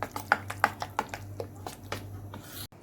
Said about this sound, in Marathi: आणि आता छान मिक्स करून घेऊ आपण.